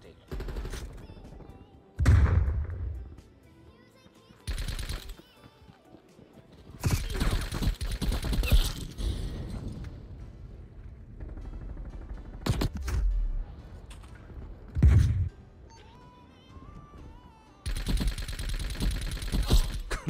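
Bursts of automatic gunfire from a new weapon in a Call of Duty match, loud clusters of rapid shots separated by short gaps, with a player talking intermittently over the game sounds.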